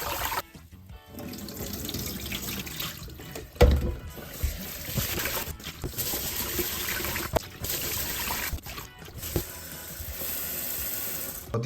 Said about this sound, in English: For short grain rice, it needs to be rinsed first.